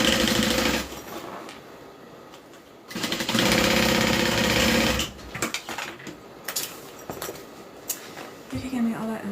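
Sewing machine stitching bag hardware down in two loud, sustained runs, followed by clattering handling noises and a voice speaking.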